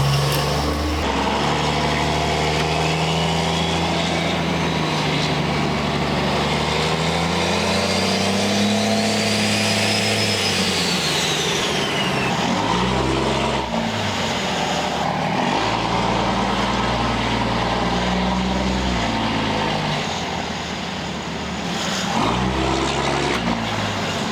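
A loud, continuous diesel engine drone heard from inside a compound-turbo 5.9 Cummins truck with windows down, rising and falling in pitch as it accelerates and shifts, with a deep 4-inch exhaust rumble.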